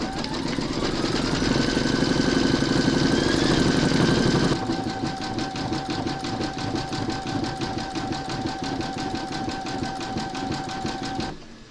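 A Brother embroidery machine stitches a Santa design with a fast, steady mechanical chatter and hum, a busier stretch at the start, then even rhythmic stitching until it stops.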